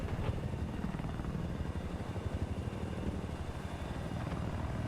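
Helicopters fly low in a 32-versus-32 video game match, their rotors beating in a loud, steady, rapid throb with a constant engine drone, close and uninterrupted by talk.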